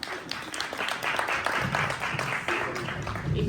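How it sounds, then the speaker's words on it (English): An audience at a film talk in Toronto's Nia Center applauds the director, a dense, steady wash of clapping from many hands with scattered cheers and voices underneath. "Please give a special round of applause again for Karen Chapman"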